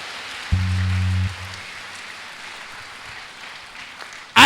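A church congregation applauds steadily, a dense wash of clapping running throughout, with a brief low hum near the start and a sudden loud burst at the very end.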